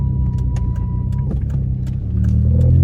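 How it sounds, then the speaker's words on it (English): A loud car engine drones steadily from inside the moving vehicle, a dense low rumble with faint clicks and rattles on top, growing slightly louder toward the end. "My car is loud"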